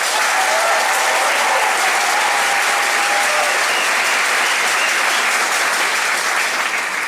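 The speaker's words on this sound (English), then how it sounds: "One last round of applause, please." A graduation ceremony audience gives a loud, sustained round of applause that fills the hall evenly from start to finish without letting up.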